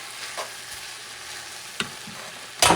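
Beans, shredded carne mechada and sofrito stirred together in a hot pan, a steady close sizzle broken by a few scrapes of the spoon and a louder burst of frying at the end.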